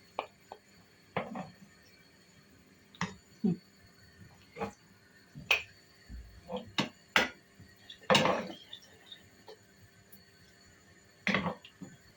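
Plates, pots and cutlery clink and knock in a home kitchen as a regional Malatya mushroom dish is served onto plates, with scattered sharp taps and scrapes spread across the clip and quiet pauses between them.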